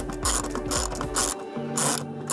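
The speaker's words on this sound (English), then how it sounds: "For these, you need an 8mm socket in order to get these off." A ratchet with an 8mm socket undoes the radiator clips on a Mercedes AMG with an M156 6.2L V8, producing quick, close, rhythmic clicking strokes that change pitch partway through, with no talking.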